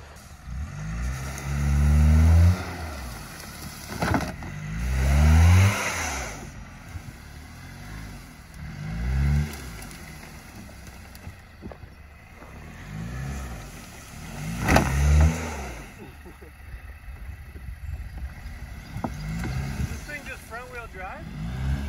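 Jeep Patriot engine revving repeatedly as its front wheels spin while it is pushed, the revs surging and dropping in waves about every few seconds, with people talking over it.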